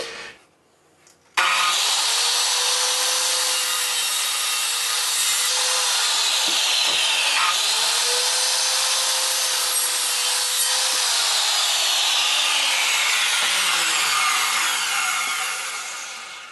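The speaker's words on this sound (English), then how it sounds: "cut these dado bits out in the top here so that the iron bars can move back and forth" Power saw cutting dado slots into the wooden top of a sliding mitre stand: the motor spins up sharply, then a loud sustained whining cut that shifts slightly in pitch and winds down at the end, close with no talk.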